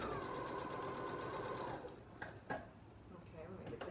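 A sewing machine stitches fabric in a steady rapid whir that runs for about two seconds and then stops, followed by quiet handling clicks and faint speech in the background.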